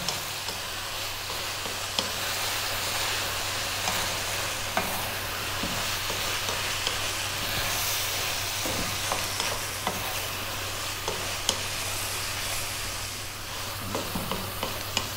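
Ingredients stir-fried in a pan with sesame oil and melting butter, a steady close sizzle with scattered clicks and scrapes of stirring throughout, no talking.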